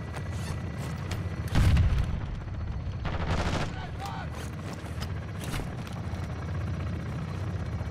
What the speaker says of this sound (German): Schüsse abgefeuert.